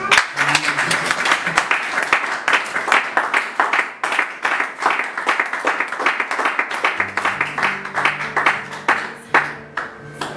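A church congregation claps steadily and loudly for about ten seconds in dense, continuous applause, with voices mixed in and sustained low keyboard tones entering partway through.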